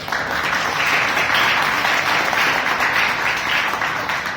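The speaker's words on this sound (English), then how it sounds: "give a round of kudos and applause for our tag team" Loud, dense applause fills a Toastmasters club meeting room as the audience claps for the tag team, an even wash of many hands that holds steady for several seconds with no talking.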